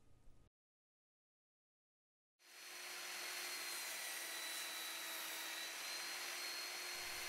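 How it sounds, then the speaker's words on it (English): Steady broadband rasping scrape starts after a brief pause and continues evenly, a close, continuous abrasive rubbing of 60-grit sandpaper on wood, sanded by hand to a ski's curve. "was ready to sand it to match the ski's curve profile"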